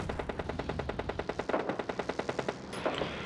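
Rapid automatic gunfire from the mobile battle-royale game PUBG Mobile Lite, a steady burst of evenly spaced shots across the whole stretch, loud and close, with a brief extra rattle near the end.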